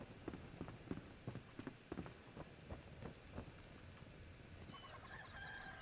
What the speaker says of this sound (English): See? Chicken crow.